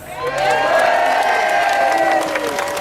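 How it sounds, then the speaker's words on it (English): Crowd at an outdoor march cheering and applauding for the police officers who stewarded it, a loud sustained mix of clapping and whoops that swells in and holds steady throughout. "I'd also like to get a round of applause for all the police officers here today."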